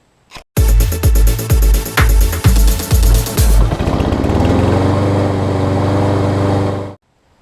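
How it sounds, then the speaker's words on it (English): A John Deere X300 riding mower with white smoke and gas in the oil cranks several times in rhythmic bursts, then fires and settles into a loud, steady close-up idle in a garage. "I'll give you a walk around and I'll start it up and smoke up the garage"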